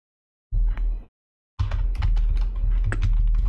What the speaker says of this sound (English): and I'll write